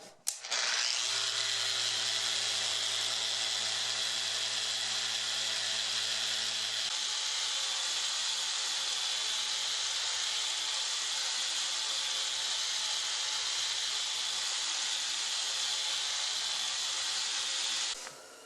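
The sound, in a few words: power sanding the wood face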